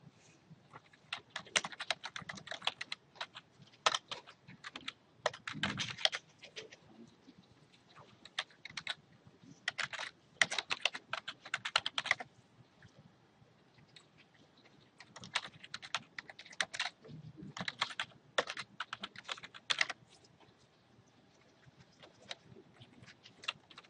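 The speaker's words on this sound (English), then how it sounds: "I'm going to finish typing this out." Computer keyboard typing while a travel brochure web page is coded, in irregular bursts of quick, close clicking keystrokes separated by short pauses, with no voices.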